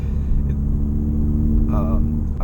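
Exhaust note of a 2017 Honda Civic Sport Hatchback with a CVT, heard from inside while driving, running unevenly rich and lean; a steady low rumble continues throughout with a brief higher whine near the end.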